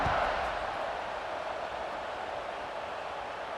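A college football stadium crowd at Cincinnati versus USC makes a steady, dense roar that stays loud and continuous, like broad wash of noise filling the whole stands, with no distinct single voices.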